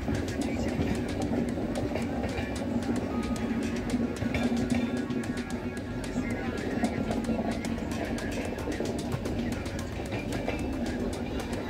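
An Indian express train, the Sampark Kranti Express, running at speed: a continuous loud rumble with rapid clickety-clack of wheels over rail joints throughout, with speech over it.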